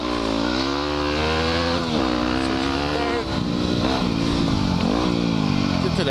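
Dirt motorcycle at full throttle on a woods trail, engine loud and close with harmonic pitch rising and dipping through gear changes, and a voice talking over it.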